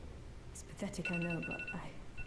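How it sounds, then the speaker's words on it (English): A mobile phone rings in the background while someone talks over it, the steady electronic tone sitting faintly beneath his speech during a short break in a gaming session. "That's my phone going off."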